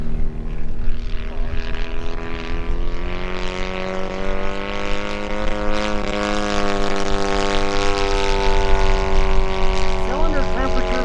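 Valach 170 engine on a large 47% scale RC Pitts Special plane at about three-quarter throttle, giving a loud, steady droning buzz with faint pitch shifts, as someone talks over it.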